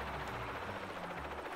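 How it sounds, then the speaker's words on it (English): Steady helicopter rotor drone from the video game Psycho-Pass: Mandatory Happiness, a continuous loud whirring wash with low thudding beneath, no talk. "Can we stop the helicopter noises now?"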